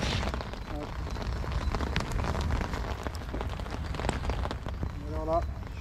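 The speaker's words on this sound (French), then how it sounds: "Et avec la pluie, ça commence à glisser un peu." Steady rain falls on the Ormesson golf course, a constant broadband hiss of drops on the surface that lasts the whole stretch, with a voice briefly audible at moments.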